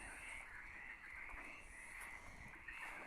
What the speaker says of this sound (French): on entend des oiseaux, des crapauds, des grenouilles